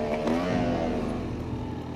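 A rally car engine revs steadily while setting off on a loose surface, a close, continuous mid-pitched drone with a slight rise in revs near the start.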